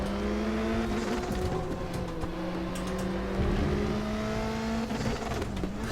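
Volvo 240 Turbo in a racing video game at Norisring, its engine droning loud and steady with pitch shifts as it changes gears through a braking zone, and no voices.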